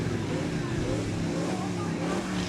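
A car club's car has engine trouble during a spring homecoming parade, and its engine runs with a steady rough roar. Outdoor crowd noise and voices sit around it.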